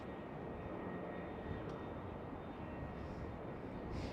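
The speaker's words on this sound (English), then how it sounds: "an EasyJet just touched down on the runway" An EasyJet airliner touching down on the runway at Schiphol in Amsterdam, heard as a steady, distant roar of jet engines and rushing air filling the clip evenly, with no talk.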